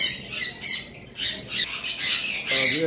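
A pet parrot, its beak tip broken, squawks repeatedly in short, harsh bursts, close by, with a busy chattering background of cockatiels, conures and other birds at a bird sale.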